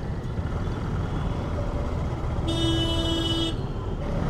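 Busy city street traffic in India rumbles steadily with engines and road noise, punctuated by one sustained car horn honk lasting about a second near the end.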